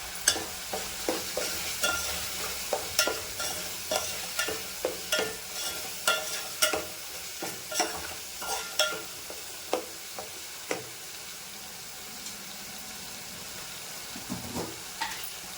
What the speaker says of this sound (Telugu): ఇప్పుడు బిర్యానీ పౌడర్ వేసుకుందామండి, ఒక స్పూను. ఇది బాగా మిక్స్ చేసుకొని